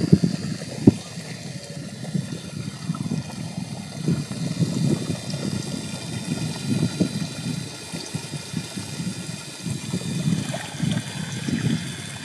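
A farm water pump runs steadily while water rushes and gurgles into a field of sorghum and maize. The rumbling flow continues without a break, close and fairly loud, with one sharp knock near the start.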